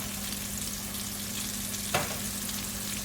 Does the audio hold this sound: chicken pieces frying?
yes